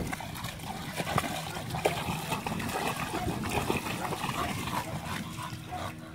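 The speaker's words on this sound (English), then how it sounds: "He seen the water, so I let him go play in it." An American Bully dog plays in water outdoors, producing faint, continuous trickling and splashing with scattered small splatters.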